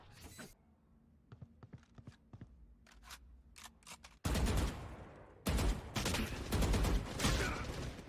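Gunfire in the video game Valorant during a tournament match. Scattered sharp shots and clicks come first, then sustained loud bursts of rapid fire that fill the second half.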